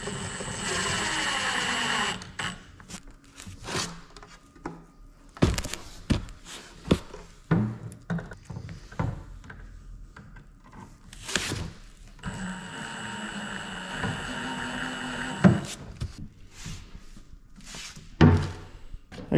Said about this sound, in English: So I'm gonna go ahead and attach these hinges.